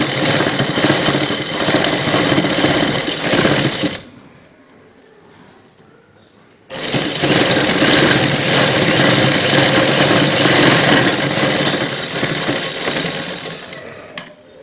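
A sewing machine runs loud and close stitching a salwar hem, a dense continuous whir that stops for a few seconds and then resumes steadily.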